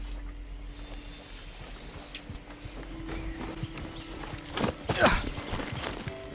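A horse in Far Cry 6 clops along in a steady rhythm under low rumbling background noise, with a louder scuffle and snort near the end.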